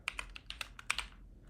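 Code being typed on a computer keyboard: about a dozen quick, light key clicks in an uneven rhythm, close and fairly quiet, with no talk.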